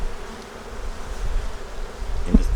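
A low, steady insect drone of many honeybees in a winter hive fills the background, a soft continuous buzz with a slightly louder bump near the end.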